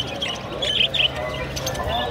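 Caged Bengali finches and goldfinches at a Friday bird market in Baghdad give short, bright chirps and tweets, moderately near, with people talking in the background.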